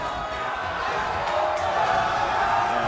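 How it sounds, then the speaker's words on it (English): A large esports crowd roars and cheers in a sustained, dense wall of noise during a game broadcast, with a voice faintly mixed in beneath the din. "Oh, the crowd love it."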